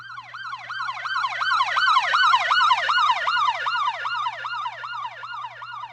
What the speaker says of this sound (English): So this is the other siren.